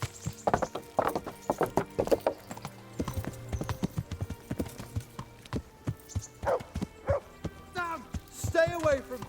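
Horse hooves clip-clop in Kingdom Come: Deliverance, a medieval game: a close, steady run of hoofbeats with short pauses, then a brief voice near the end.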